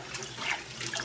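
Tap water runs steadily into a household cooler, a continuous rushing splash at moderate loudness with no talking over it.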